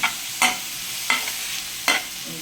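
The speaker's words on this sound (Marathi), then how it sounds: "आता इथे बारीक गॅसवर ही मेथी साईडला ठेवलेली ती थोडीशी परतून घ्यायची आपल्याला आधी" Fenugreek leaves being sautéed in a pan over a low gas flame, a soft sizzle broken by three or four distinct scraping stirs of a spatula at a steady, unhurried pace, close by with no talk.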